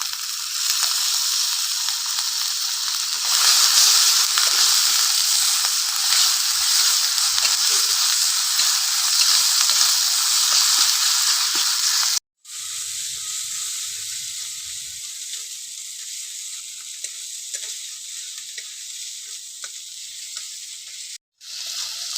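Cumin, chili and ginger paste frying in hot oil over lightly browned onions for a cauliflower dalna: a loud, continuous hissing sizzle with scraping stirs, steady throughout with two brief cuts.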